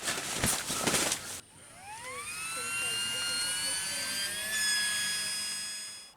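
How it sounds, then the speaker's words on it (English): A USB-powered air inflator fills an air bed at a campsite. The motor gives a steady, close, rising whine that holds for several seconds after a short burst of talk. "we picked up this USB-powered inflator so we can use it to inflate our"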